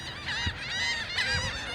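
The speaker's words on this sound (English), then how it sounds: "There's a lot of seagulls here." Seagulls on a beach at a cruise line's private island give loud, close honking calls, with two bright cries rising over a steady background of wind and surf.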